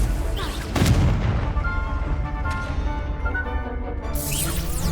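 The Confringo explosive spell from Hogwarts Legacy goes off as a loud, close boom near the one-second mark, followed by rumbling debris and ringing tonal game effects that fade away.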